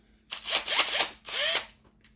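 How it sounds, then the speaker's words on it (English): A power drill runs in two bursts, whirring up and winding down with a pause between, close and alone, while fitting a new battery in a 700hp Nissan March with a 3.5 litre V6. "put the drill the right way"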